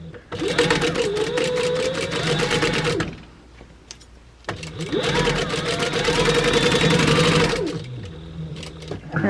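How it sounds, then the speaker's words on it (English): A sewing machine stitches around the edge of a fabric book bag in two long, steady runs of fast, whirring needle clatter, close and loud, with a short pause between the runs. "so that I won't waste too much thread, I'm going to go ahead and just sew around."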